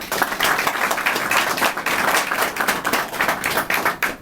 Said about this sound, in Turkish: Onlara güçlü bir alkış rica ediyorum sizlerden.